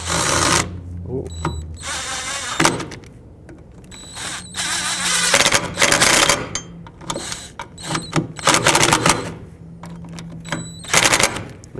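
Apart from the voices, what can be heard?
tightening 10mm bolts on Toyota Camry parking brake cable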